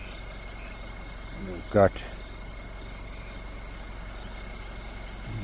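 Insects chirp in the bush at night in a valley, a dense, continuous high trill that carries on evenly throughout, briefly interrupted by a short spoken phrase near the start.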